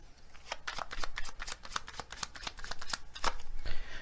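A deck of oracle cards shuffled by hand, a quick run of close papery riffles and flutters in uneven bursts, with no talking over it.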